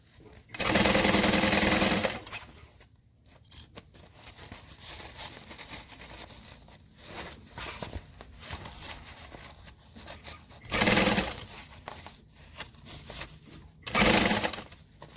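A sewing machine stitches a garment lining in several loud bursts of fast whirring, separated by quieter pauses filled with handling noise and fabric rustle.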